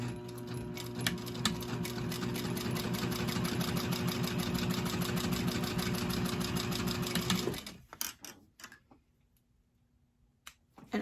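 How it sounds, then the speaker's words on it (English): A Sailrite 111 sewing machine topstitching runs in a fast, steady mechanical chatter for about seven and a half seconds, then stops abruptly, leaving faint handling noises. "now I'm going off of the first line that I stitched"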